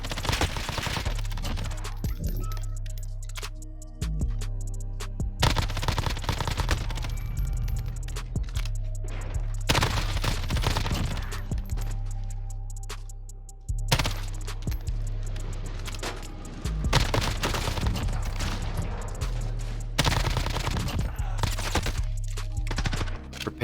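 Gunfire from an SMG and an assault rifle at long range in Warzone, bursts of rapid shots repeating every few seconds with short quiet gaps between them.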